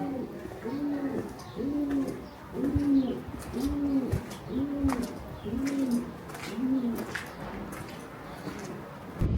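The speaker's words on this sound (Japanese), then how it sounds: "鳩の音はでも、 どこにいるかわからないけど。" Pigeons coo in a steady series of soft, low, rolling calls, about one every second, with faint chirps and ambient noise in the background, in a village in southern France in spring.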